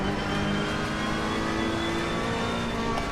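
Ferrari 488 GT3 race car engine under throttle in Assetto Corsa Competizione at Catalunya: a steady, loud, continuous engine drone with rising harmonic tones, uninterrupted by talk.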